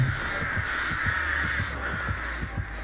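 Crows caw repeatedly in the video game Dead by Daylight Mobile, a run of harsh, rhythmic calls pulsing about twice a second over a steady game-ambience hum, with no voices.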